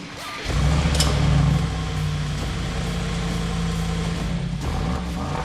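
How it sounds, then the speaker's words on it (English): A Brabus-tuned Mercedes-AMG with a valve-controlled exhaust set to normal mode starts up with a deep, loud rumble, then settles into a steady, throaty idle that continues without a break. "This is how the car sounds in normal mode."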